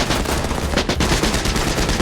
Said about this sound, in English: the officer immediately ordered his men to open fire